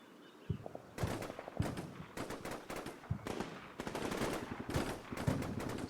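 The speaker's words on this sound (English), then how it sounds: "more and more bullets flying in the process" Squads exchange fire in the video game Combat Mission Shock Force 2, with repeated bursts of machine-gun and rifle shots in close and distant volleys and brief pauses between them.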